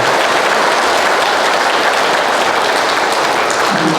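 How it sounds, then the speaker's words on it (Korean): An audience gives loud, sustained applause at a Buddhist temple event, a dense steady roar of many hands clapping close by with barely any voice. "여러분 큰 박수 한번 부탁드리겠습니다."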